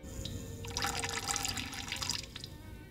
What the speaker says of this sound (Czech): až z něj kapala voda